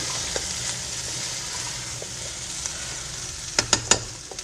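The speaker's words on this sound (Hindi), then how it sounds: "अब इसको हल्के हल्के हाथ से मिक्स करेंगे हम।" White chickpea gravy (safaid channay) is gently mixed in a pan, with a steady close sizzle and hiss; a few sharp spoon clinks against the pan come near the end. No talking.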